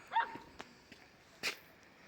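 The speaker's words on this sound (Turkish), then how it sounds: "dışarıdan da sesime tepki veren köpekler var" Dogs outside let out a couple of short, faint barks at a distance, separated by a pause, with quiet background noise between them.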